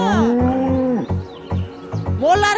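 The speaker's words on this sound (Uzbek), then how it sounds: "Mollaring baqiryapti, tur Dilshod!" Farm cattle low in long, loud, close moos, each call drawn out over a second or more, with a steady low thudding rumble underneath.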